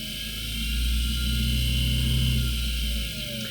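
An inverter air conditioner fan motor for a 24,000 BTU unit runs on a test board, giving a steady low hum with a constant whirring drone that swells slightly and then eases, with no talking.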